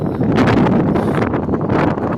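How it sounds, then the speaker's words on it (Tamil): Strong wind buffeting the microphone on Patnam Beach, a loud, continuous rushing roar with gusty surges and no speech. "ஆனால் காற்று கொஞ்சம் இன்க்ரீஸ் ஆன மாதிரி இது"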